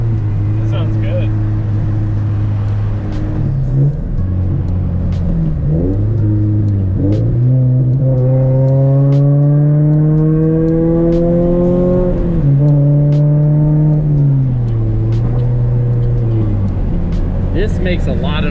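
A car fitted with an ACE CS400 EL exhaust header revs loudly and nearby, its engine pitch rising and falling through several long pulls, with people talking over it.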